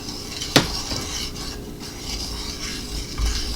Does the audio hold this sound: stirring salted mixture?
yes